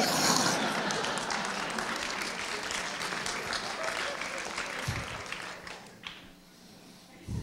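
Loud, sustained applause from a large film festival audience at a Q&A, dense clapping that fades slightly toward the end, with voices mixed in.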